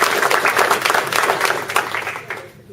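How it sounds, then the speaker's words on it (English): An audience at a Kiwanis club officer and board induction claps steadily for nearly three seconds, the applause close and fairly loud before tapering off at the end. "Let's give them a round of applause."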